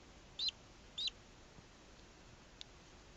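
Duckling peeping from inside a small hatching duck egg: two short, high chirps close together, faint against a quiet background hiss, followed by a tiny click.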